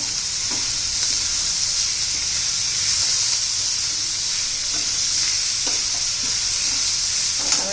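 Onion sautéing in a pan for masala pav, a loud, steady hissing sizzle close by, broken by a few soft stirring scrapes of a utensil.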